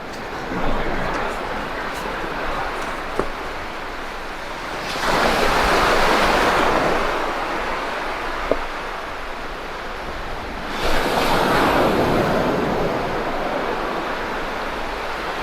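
Surf from the incoming tide at Llantwit Major beach rolls in as a steady broadband wash, swelling into two louder breaking surges, with wind buffeting the microphone throughout.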